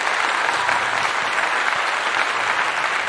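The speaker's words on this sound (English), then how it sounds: "Ladies and gentlemen, let's clap it right now." An audience at a talk applauds, a dense, steady wash of clapping from many hands that holds at full strength for a few seconds, loud and close.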